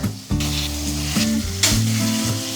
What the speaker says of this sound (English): For extra flavor, we're going to use that to fry our eggplants.